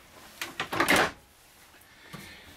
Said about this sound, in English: Nice storage with metal glide pull-out drawers.